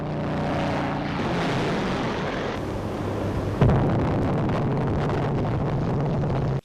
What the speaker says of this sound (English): The planes then fly off.